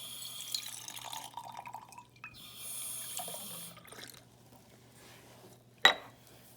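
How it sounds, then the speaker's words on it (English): Water runs and trickles into a glass beaker in a quiet classroom-style setting, a few seconds of soft pouring and splashing followed by a sharp clink of glass near the end. "What if we take this solid beaker and we add some liquid water to it?"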